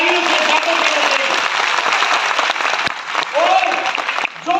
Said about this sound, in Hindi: इनका एक बार जोरदार तालियों से स्वागत करें।